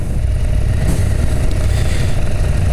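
Husqvarna Norden 901 motorcycle engine running in off-road mode, a loud, close, steady rumbling drone with a faint rise in pitch partway through, and no voices.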